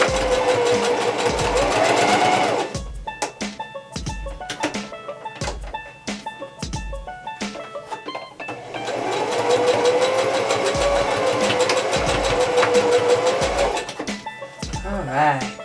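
A sewing machine stitches a fabric scrunchie with elastic in two sustained, close runs of fast whirring separated by a pause filled with clicks and handling taps.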